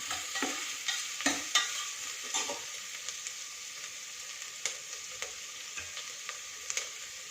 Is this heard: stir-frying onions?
yes